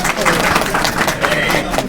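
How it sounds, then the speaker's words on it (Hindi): Clapping from the audience at the Meerut District Bar Association oath-taking ceremony comes as a short, steady burst of applause mixed with crowd murmur. "जोरदार तालियां भैया, जोरदार तालियां।"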